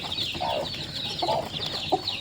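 A country chicken clucks several times in short, soft bursts against a faint outdoor background.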